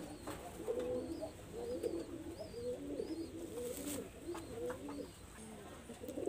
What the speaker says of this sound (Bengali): এই হলো ফিমেল কবুতর, এই হলো নর কবুতরটা